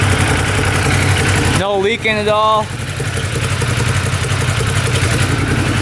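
A UTV engine idles steadily at about 1300 RPM, a continuous mid-pitched drone that runs the whole time while someone speaks briefly over it.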